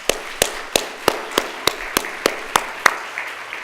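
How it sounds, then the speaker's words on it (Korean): A small church congregation claps in slow, steady unison, about a dozen evenly spaced sharp claps ringing in a hall at a Sunday service farewell for a departing missionary. "다 같이 우리 박수로서 인사드리겠습니다."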